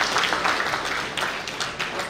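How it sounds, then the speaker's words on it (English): A banquet audience at an anniversary award night gives a round of applause, a dense wash of clapping heard throughout at moderate level, with faint voices underneath. "I think we should give him a round of applause."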